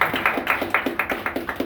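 Audience clapping at a live performance: brisk, steady claps in a regular rhythm, loud and close, with no voices.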